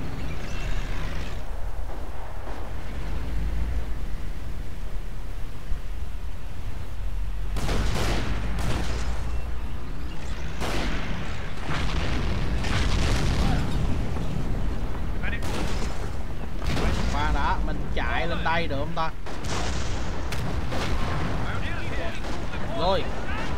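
The Company of Heroes battle game plays machine-gun fire and heavy explosions in repeated loud bursts over a rumbling background of war sounds, with someone talking throughout.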